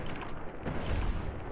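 Gunfire in the video game Fallout: New Vegas, a burst of heavy, booming shots with low rumble and mechanical rattle, dense and close with no clear gaps.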